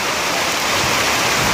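Heavy thunderstorm rain pours at the Siloé aerial cable car, a dense, steady hiss of downpour filling the whole moment, loud and unbroken, with no voices.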